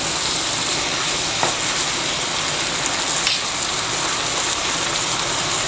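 Food sizzles and fries steadily in a pan while being stirred and mixed, with a couple of brief scraping knocks, for a diet meal-prep dish; no voices.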